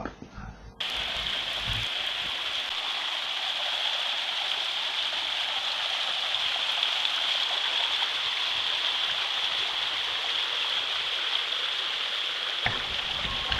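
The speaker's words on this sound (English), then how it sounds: "this flow of water, and as I said, there are numerous mini waterfalls that we came across while we were on our trek" A stream flowing over a series of small waterfalls on a nature trail in Barbados gives a steady, close, broadband rush of water that holds evenly throughout with no voices.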